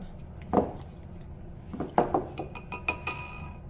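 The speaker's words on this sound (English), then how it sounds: "So I'm gonna whisk that." Warm milk mixture for dinner roll dough is whisked, giving a few scattered clinks against the bowl, then a quicker cluster of light metallic taps over quiet background noise.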